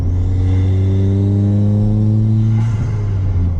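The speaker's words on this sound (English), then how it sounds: "That's the stock blow-off valve" A car engine holds a steady rev under light throttle, then its stock diverter blow-off valve vents with a short hiss as the throttle closes near the end, loud and close with no talk.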